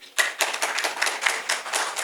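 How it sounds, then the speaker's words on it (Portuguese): Audience applause greeting a woman guest lecturer at a Brazilian judicial conference talk on the Maria da Penha law, a dense steady burst of many hands clapping in a hall, lasting about two seconds. "Uma salva de palmas calorosas, por favor."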